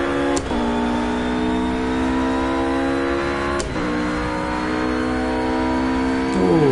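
A race car engine in Project Cars drones at a steady high pitch, then falls sharply on each of three quick upshifts, staying loud and close throughout with no voices.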